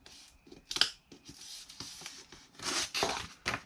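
Paper edges of a homemade gift box being folded over by hand: a series of dry crinkling, rustling and scraping bursts, close and fairly quiet, with short pauses between the folds.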